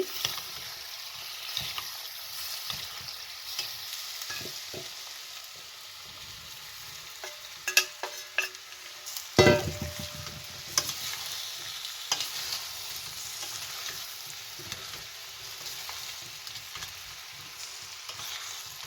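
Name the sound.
stirring potato dish frying in a pan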